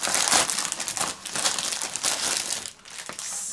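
Plastic packaging crackles and crinkles loudly up close as a wrapped foot part for a DeAgostini R2-D2 model kit is unwrapped, a continuous run of crumpling with brief pauses and no talking.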